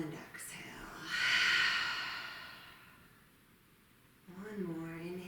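A long, deep exhale during yoga practice swells and then fades over a few seconds, followed by a speaking voice.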